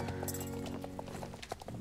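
A horse's hooves clip-clopping in a video game, a quick run of light, evenly spaced hoofbeats over a steady tonal background.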